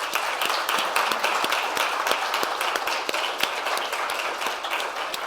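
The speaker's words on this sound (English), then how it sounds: "I'd like you to give a round of applause, please, for our panellists" An audience at a cycling world championship panel session gives sustained applause, a steady wash of many hands clapping at moderate distance with no talk over it.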